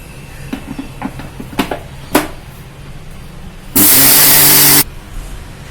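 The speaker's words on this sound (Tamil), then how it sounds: "இப்போ இதை அரைச்சாச்சுப்பா, நல்லா பவுடராக ஆயிடுச்சு." A mixer grinder whirs loudly for about a second as it grinds millet with roasted black urad dal. The steady burst follows a few faint scattered taps and stops abruptly.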